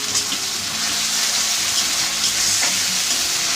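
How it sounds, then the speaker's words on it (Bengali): Ginger, garlic, onion and tomato paste fries loudly in a kadai, a steady close hiss of sizzling oil with light scraping from stirring throughout. "সেই মিশ্রণটা আমি কড়ার মধ্যে দিয়ে দেবো দিয়ে ভালো করে ভাজতে হবে"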